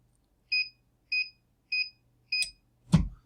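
A 3D printer initializing gives four short, evenly spaced high electronic beeps, followed by a fifth beep merged with a low mechanical thump, close and clear in a quiet room.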